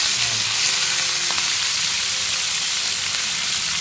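Rat meat fries in a pan for Mekong Delta–style fried rat with fish sauce, a close, steady hiss and crackle of hot oil that continues without pause.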